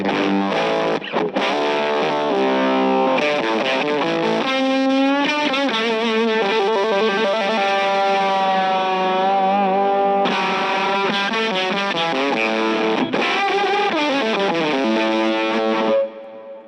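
A guitar through an effects pedal switched into chaos mode roars with dense, distorted, warbling tones and shifting pitch sweeps, loud and sustained for several seconds before cutting off.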